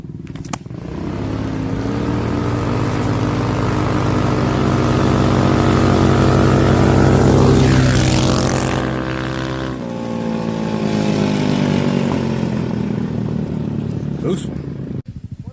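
Two racing ATVs, a 150 Carbide and a 250 Reaction, roar together with buzzing engines. The pitch climbs and swells as they speed past near the middle, then the engines drone on loudly as they pull away.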